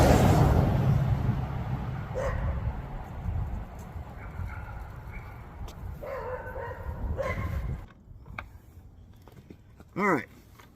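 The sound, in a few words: dogs barking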